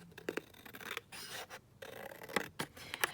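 Scissors trim paper for a junk journal folio, giving several short crisp snips and rasping cuts in quick bursts, close and fairly soft, against a faint windy background with no talk.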